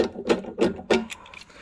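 Bolt being screwed into a fitting on a water purifier, giving a few short, close creaking rubs in an uneven rhythm.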